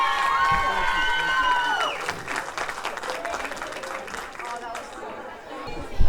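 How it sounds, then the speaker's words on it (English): Audience applause and cheering for a performer at a cultural festival, dense clapping with crowd chatter and a loud voice over it near the start, fading to scattered claps. "give my sister Talia a very big round of applause"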